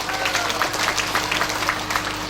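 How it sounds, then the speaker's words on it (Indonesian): An audience at an Islamic religious gathering breaks into dense, sustained applause over a low hum, a continuous wash of many hands clapping at once. "Tepuk tangan lagi."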